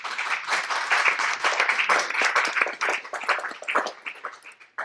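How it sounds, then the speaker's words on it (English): Audience applause at the close of a film screening and discussion on Brazil's cocoa and chocolate supply chain, a smaller group clapping close by in uneven, rhythmic bursts that thin out and fade toward the end. "Please give yourselves a round of applause."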